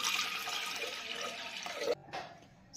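Water pours from a vessel into a pot of washed lentils for dal makhani, a steady close splashing gush that breaks off near the end and then resumes briefly.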